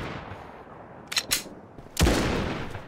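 Shotgun blasts in the World War II shooter game Battalion 1944: two quick sharp reports followed by a heavier, louder boom with a lingering rumble, over faint game ambience.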